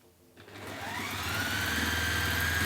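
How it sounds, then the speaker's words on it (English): A sewing machine stitches along the bottom seam of a fabric bunny, a short click then a steady whirring hum that builds and holds close and clear. "So we're going to sew along the bottom here, bottom there"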